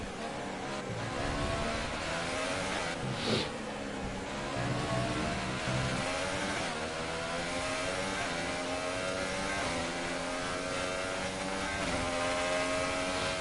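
Formula 1 car engine from the F1 2018 racing game at the Shanghai circuit, a continuous high-pitched revving drone that holds steady with slight rises and falls throughout, loud and dense with no talk.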